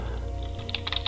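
Typing on a computer keyboard: a quick run of close, crisp key clicks over a steady low hum, growing denser toward the end.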